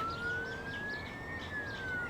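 An ambulance siren wails steadily in a smooth rising and falling tone, continuous and moderately distant, over low background rumble.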